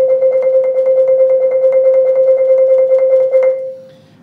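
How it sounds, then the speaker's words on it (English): A single marimba bar sustained by an even, slow single stroke roll, the mallet strokes audible as a steady pulse in the held tone before it cuts off and decays near the end. "it's just a slow single stroke roll and should sound something like this"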